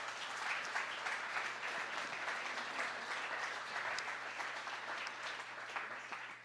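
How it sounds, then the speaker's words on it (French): Faint audience applause welcoming guests at a church gathering, a steady even wash of many clapping hands heard from a distance with a low hum beneath. "On veut aussi les accueillir par applaudissement."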